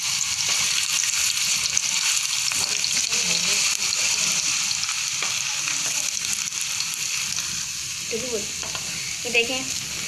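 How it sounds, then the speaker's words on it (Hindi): Homemade french fries cut from long potato sticks frying in hot oil, a dense continuous bubbling sizzle close up and steady throughout, with a few faint clinks near the end. "ये देखें फ्राई हो रही है।"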